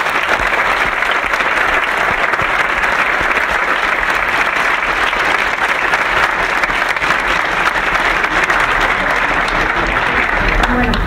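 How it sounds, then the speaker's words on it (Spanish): A conference audience at a university gives loud, sustained applause, a dense wash of clapping that keeps going steadily for the whole stretch, with faint crowd murmur beneath. "Un aplauso para ella, por favor."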